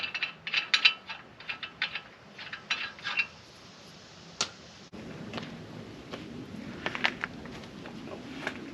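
Ratchet clicks in quick bursts while lug nuts are tightened on a 2016 Ford F150 front wheel being refitted after a brake job, close and fairly quiet, followed by a steadier mechanical whir.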